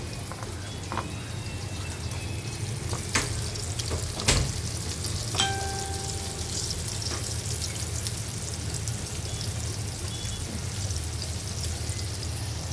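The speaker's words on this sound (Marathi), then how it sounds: "आता हलवा फ्राय चालू आहे" Bombil and halwa fish coated in rice flour and masala shallow-frying in a pan, Malvani style, a steady soft sizzle throughout with occasional clicks and pops, no talk.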